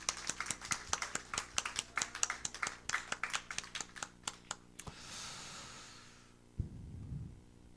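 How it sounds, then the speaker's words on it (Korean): Sunday morning church congregation clapping in thanks, a run of sharp, rhythmic claps in unison for about five seconds, then a softer scattered patter that trails off, followed by a low rumble. "우리 박수합시다."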